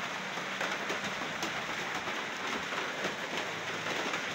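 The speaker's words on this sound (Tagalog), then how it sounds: "Basa kasi umuulan." Steady rain from Typhoon Aghon in Tacloban, pattering on concrete, a dense, even hiss with faint scattered drops, continuous and close throughout.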